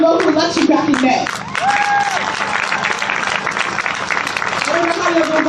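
Audience at a live street protest clapping throughout, a dense steady patter of many hands, with voices and crowd noise mixed in over the applause.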